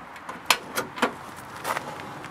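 The door of a 1960 DKW Junior de Luxe museum car shuts with a few sharp clicks and latching knocks, close by and fairly loud.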